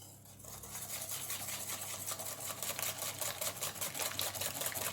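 Gâteau de riz ingredients, a grandmother-style rice pudding, are mixed in a bowl, giving a fast, even run of scraping and stirring strokes that stays close and steady, with no voices.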